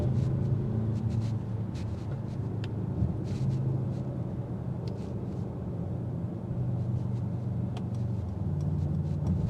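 A 2025 Mercedes-AMG GLE 63 S Coupe accelerates in race mode on an interstate, its engine a steady, deep rumble heard from inside the cabin with faint road noise and occasional small clicks, and no talk.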